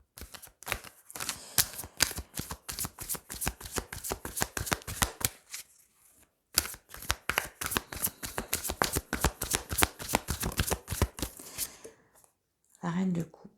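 Tarot cards are shuffled in two long runs of fast, crisp riffling taps, separated by a short pause, close up and crisp, with a brief soft sound at the very end.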